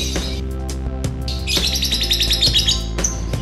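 Rapid, high-pitched lovebird chirps trill in bursts over a steady low hum, growing busier in the middle before tapering to a few sharp calls.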